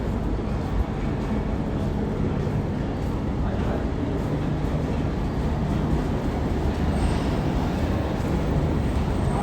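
Steady low rumble of the Pakistan Express 46 Down passenger train heard from beside a coach, a continuous rolling drone with faint hiss and no clear talk.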